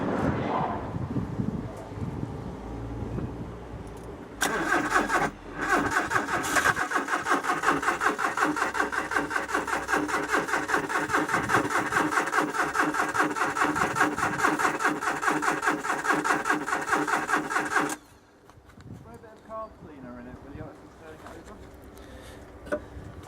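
An Alpine car engine cranks and briefly catches with a loud, steady mechanical roar lasting about thirteen seconds, then drops off to quieter ticking and rustle; carb cleaner has been used and the plugs cleaned.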